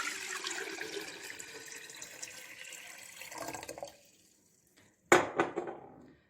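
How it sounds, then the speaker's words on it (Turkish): Water from a tap pours into a kettle holding lemon salt for descaling, a steady splashing fill that fades out, then after a short silence a brief sharper burst of splashing and clatter. "Şöyle suyumuzu da ekleyelim kettle'ımıza."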